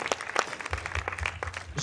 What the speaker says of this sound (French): On peut encore applaudir le film Cops de Stephen Lucas.